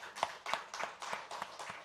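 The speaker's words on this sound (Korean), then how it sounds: "우리 하나님께 영광의 박수 올리겠습니다." A church congregation claps in a steady rhythm, about three beats per second, a quiet, slightly distant sound with no voices over it.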